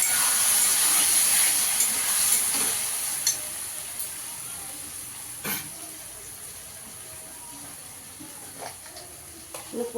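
Ground paste of ginger, green chillies and tomato hits fried onions and potatoes in a pan, giving a bright sizzle that is strongest at first and then settles into a softer crackle with scattered pops and stirring clicks.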